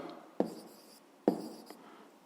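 A pen writes down an answer by hand on paper, two quick scratchy strokes with a brief pause between them, close and alone.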